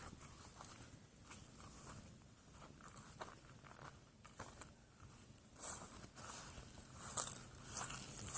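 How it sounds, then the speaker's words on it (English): Footsteps crunch across a dry lawn during a summer drought, soft crackling steps close by that grow louder toward the end, with no talking. "you can hear the crunching on the lawn."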